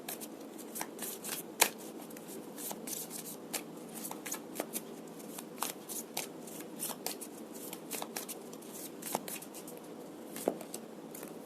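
Tarot cards being shuffled by hand during a love reading: a steady run of crisp riffling and soft slapping card sounds, close and fairly quiet, with sharper snaps scattered throughout and no talking.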